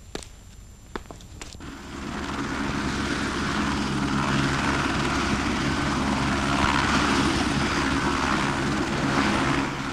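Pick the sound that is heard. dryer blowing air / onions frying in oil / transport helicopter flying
transport helicopter flying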